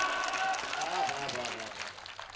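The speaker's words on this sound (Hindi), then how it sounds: "तालियां कमजोर है" Applause from the audience at a Hindi comedy poetry gathering, a steady wash of clapping with a voice speaking over it.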